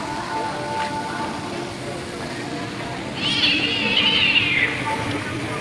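A cat gives a single drawn-out meow partway through, fairly close and clear, over an outdoor background with faint voices.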